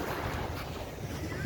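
The sea at night rolls against the shore in a steady, dense wash of surf, with blustery wind buffeting close to the microphone.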